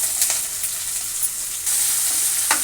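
Cumin seeds and onion pieces sizzle in hot oil for a tempering for raw mango dal, a steady close crackling fry with faint stirring clicks and no talk.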